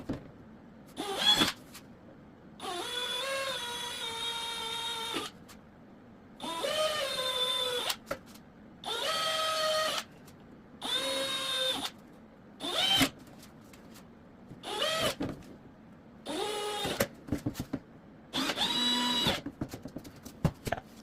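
A power drill bores holes into a car hood to fit a hood scoop, about a dozen separate high whining bursts of a few seconds each with short quiet pauses between, close and clear.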